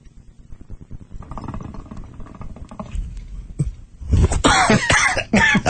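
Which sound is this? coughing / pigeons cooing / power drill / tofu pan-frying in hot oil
coughing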